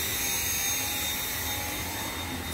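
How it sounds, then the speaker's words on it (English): A Dyson V7 cordless vacuum cleaner running on its low setting while grooming carpet, giving a steady, continuous broadband whir with a faint high whine, close by and alone with no talk. "You can see how well this vacuum is grooming my carpet. This is on low."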